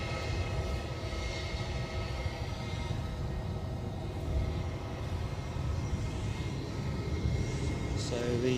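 A Boeing 787 Dreamliner taxis at Edinburgh airport, a low, continuous engine rumble and hiss heard from nearby at a fairly even level.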